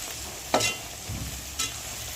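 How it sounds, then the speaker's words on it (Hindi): Poha with turmeric and salt frying in a pan, a low continuous sizzle broken by two brief scraping stirs of a spoon, close up and with no talking. "बस 2-3 मिनट इसमें भून लेना है हमें हल्दी और नमक को"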